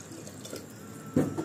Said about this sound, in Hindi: आवश्यकता अनुसार पानी मिला दीजिए